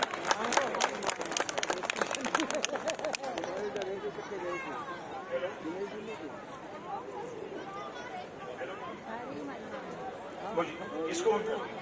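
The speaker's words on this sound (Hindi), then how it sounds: "जोरदार तालियां हो जाए एक बार।" A crowd at a Hindu festival gathering claps, with loud scattered clapping in the first few seconds that gives way to chatter and general hubbub, and people talk throughout.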